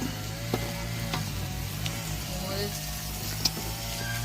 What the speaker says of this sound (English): I got one more steak to flip.